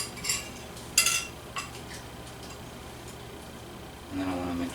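Metal cutlery clinks against a bowl as homemade soup is ladled in, with a few sharp, bright clinks early on, then quiet, then a soft liquid pour near the end.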